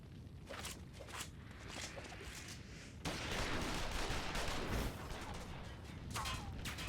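Gunfire in a Final Fantasy XIV cutscene, a dense burst of rapid shots crackling over a noisy battle backdrop, intensifying midway and continuing in volleys, with no clear speech.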